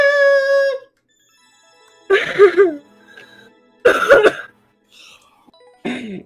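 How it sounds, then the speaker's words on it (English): Three bursts of harsh coughing, close and fairly loud, separated by near-silence, after a brief tonal sound at the start. "You're coughing"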